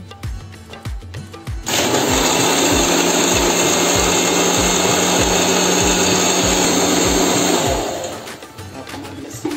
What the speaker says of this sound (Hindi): अब हम इसको सिंपली ग्राइंड करेंगे और कुछ नहीं है इसमें